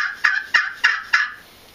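Custom handmade friction turkey call worked by hand, giving four sharp, loud yelps evenly spaced about a third of a second apart, each a bright raspy note that fades quickly, with nothing else heard.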